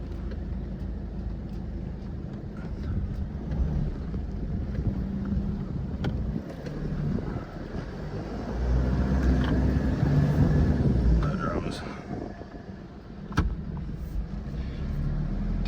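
Four-wheel-drive vehicle in low range with the factory electronic diff lock engaged, crawling up a wet dirt track; a steady low engine drone with wind buffeting swells to a heavier push midway, then eases, with a few knocks.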